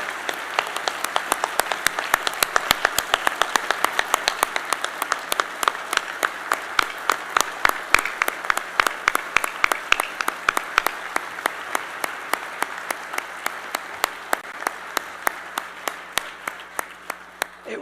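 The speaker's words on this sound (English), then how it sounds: "Let's give him a applause" Audience applause for the president after a hosted appearance, starting as a dense crowd roar that thins into sparse scattered claps over nearly eighteen seconds, with faint talk underneath.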